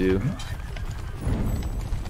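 Horses run around in a video game, their hooves making a soft clip-clop under a voice talking over the gameplay.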